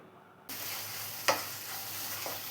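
Chicken chukka frying in a pan and being stirred: a steady sizzle starts abruptly and holds, with a sharp scrape of the utensil midway and a softer one near the end.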